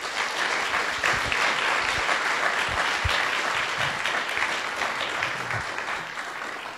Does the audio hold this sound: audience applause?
yes